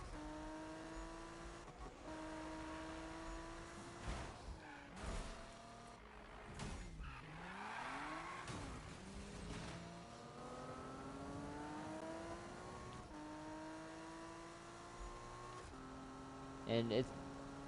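A Toyota Supra with a 1030-horsepower grip build races in Need for Speed 2015, its engine revving up and shifting through gears repeatedly, with occasional tire noise, steady and moderately loud under a talking voice.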